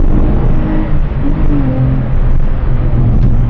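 A Porsche 993 Carrera 4 accelerates hard along a country road strewn with pine needles and gravel, its engine a loud, close, continuous roar with shifting pitch and no talk.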